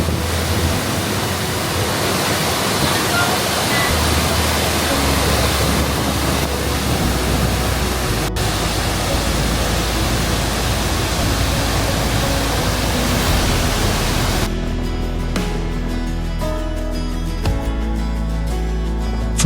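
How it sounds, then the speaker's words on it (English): A loud, steady roar of heavily falling water fills the air, dense and unbroken throughout, at the base of a waterfall in Costa Rica. "Standing at the base of the falls, you don't just see the water, you feel it"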